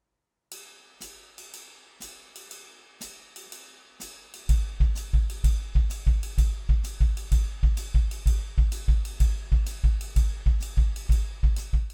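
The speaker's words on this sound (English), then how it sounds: "if we use the bass drum as quarter note triplets against the swing" Drum kit with the bass drum playing quarter-note triplets against a swing ride cymbal pattern; cymbal alone at first, then steady, prominent kick thumps join under the ride, with no voices.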